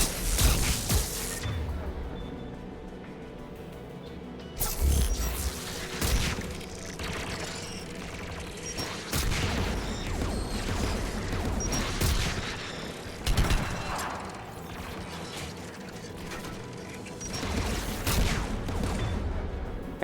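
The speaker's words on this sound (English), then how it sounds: "The Geth anti-aircraft guns are up ahead." Geth anti-aircraft guns in the Mass Effect video game thunder in repeated heavy bursts, sharp booming volleys spaced every few seconds over a steady mechanical background din.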